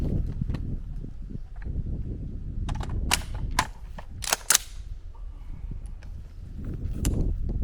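Several sharp AR-15 rifle shots crack out in a quick irregular cluster at live-fire range practice, loud and close, with a quieter stretch of ambient noise before and after.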